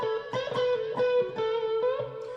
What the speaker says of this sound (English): There's a little bit of reverb, a little bit of delay, a little bit of gain, kind of a little bit of everything.